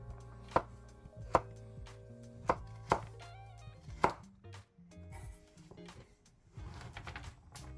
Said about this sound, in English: Now cut them in half and into medium-sized batons.